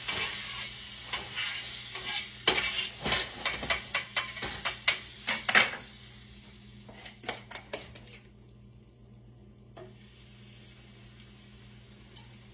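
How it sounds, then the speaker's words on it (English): Banana pancake batter cooking in a pan of butter and olive oil, a steady close sizzle with a run of sharp clinks and scrapes of a utensil stirring and tapping the pan, easing to quiet frying. "put a little butter, a little olive oil, mix them together, and put our batter on there"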